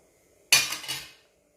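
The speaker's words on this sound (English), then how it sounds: "put the washer in and seal the cooker" Metal clank of a pressure cooker lid being sealed with its washer, one sharp close impact followed by a short rattling scrape that fades within about half a second, in a quiet kitchen.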